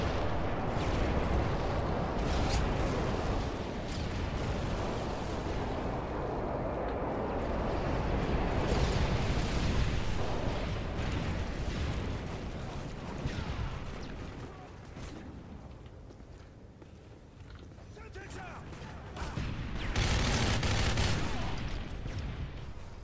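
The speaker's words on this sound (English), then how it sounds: "Delta airstrike on the way" Airstrike explosions in a Call of Duty MW3 multiplayer match roll in as deep, continuous booming rumbles with heavy gunfire crackle layered on top, loud throughout, swelling twice, with a voice talking intermittently underneath.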